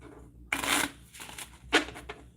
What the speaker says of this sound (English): I've got them all in order, so I need to shuffle them.